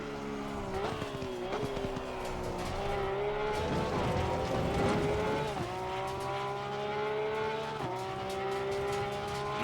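In the racing game Assetto Corsa Competizione, a Porsche 911 GT3R laps Snetterton with a steady engine drone that climbs through the gears and drops at each shift, plus some brief tire squeal through one corner.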